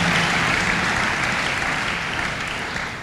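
A church congregation applauds, producing dense, continuous clapping from many people that holds steady and gradually eases over three seconds.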